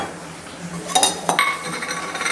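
A small metal pot is set down in a kitchen with two quick clinks close together, followed by a soft ringing metallic tail.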